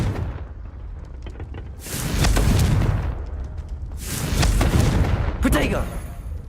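Confringo fire spell blasts in Hogwarts Legacy, two heavy rumbling explosions a couple of seconds apart, each swelling and fading, followed by a sharper crackling burst.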